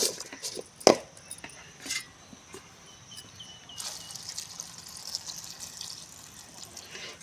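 Water is poured into a cooking pot of brinjal curry with chili powder in a village kitchen, a quiet trickling and splashing that swells into a steady pour halfway through.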